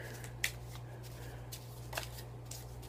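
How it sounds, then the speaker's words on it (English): Soft, papery flicks and riffles of playing cards being overhand shuffled by hand, with a few sharper snaps spaced irregularly over a low background hum. "just overhand shuffle"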